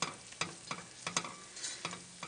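A spoon stirs tomato paste sautéing in a pot for a tomato soup, giving sharp, regular scraping knocks against the metal over a soft sizzle.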